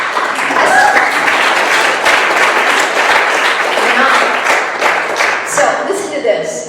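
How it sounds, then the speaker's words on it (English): Steady applause from an audience, a dense wash of many hands clapping at even loudness throughout. "How about a clap?"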